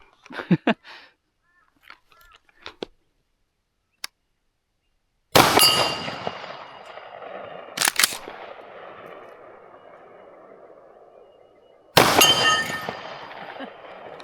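Three loud, sharp 300 Blackout rifle shots fired at steel targets out to 300 m, each trailing off in a long ringing decay, after a few faint clicks and handling noises.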